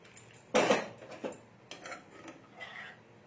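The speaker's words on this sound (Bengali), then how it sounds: "আস্তে আস্তে এটাকে আমি ঘেটে নিচ্ছি" Spices are stirred into breakfast food in a kadai, making close scraping and clinking of a utensil against the pan. One louder clatter is followed by softer, uneven stirring strokes.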